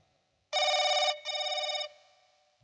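Telephone ringing in two loud, close electronic trill bursts separated by a brief gap, fading into a faint tail.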